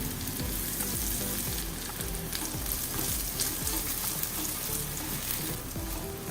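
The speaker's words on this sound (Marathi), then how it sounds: "तर हे सुद्धा छान तेलावर भाजून घ्यायचं" Green chilies roast in hot oil in a pan, giving a loud, steady, close sizzle that runs unbroken throughout with no voices.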